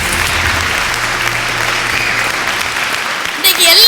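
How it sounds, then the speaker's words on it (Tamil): Audience at a Tamil comedy debate show clapping to welcome a speaker, a loud, dense, sustained burst of applause from a large crowd that cuts off near the end as other sound comes in. "மலர்விழி அவர்களுக்கு ஒரு பெரிய கரகோஷம் கொடுத்து வரவேற்கிறேன்"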